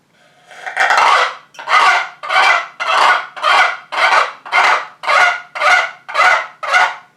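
Ten raspy, coarse yelps from a turkey call imitate an old hen, loud and close in a steady rhythm with no speech.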